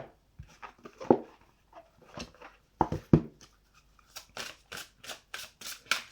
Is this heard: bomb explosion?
no